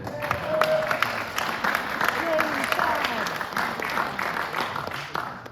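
A theater audience at a live concert claps and cheers steadily for several seconds, a dense wash of applause with a voice briefly audible underneath.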